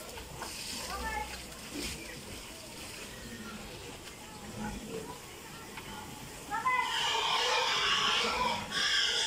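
Pigs grunt and snuffle at a piggery during feeding, with people talking over them, water sloshing and splashing, and a louder rush of activity near the end.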